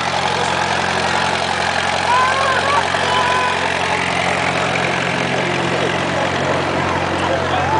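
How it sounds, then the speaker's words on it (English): A tractor idles in a Christmas parade, a steady low engine rumble that continues unchanged throughout beneath faint crowd noise. "It's a tractor."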